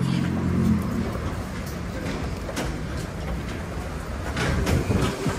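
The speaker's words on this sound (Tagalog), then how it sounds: "Pasok tayo sa tren." A Montreal metro train at Sauvé station rumbles steadily with broadband clatter and low hum, loud and close throughout, with faint crowd noise around it.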